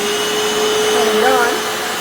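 Hoover FloorMate Deluxe FH40160 wet-dry hard floor cleaner running in wash mode, a loud steady motor whine throughout with a faint tonal pitch shift partway, no talking.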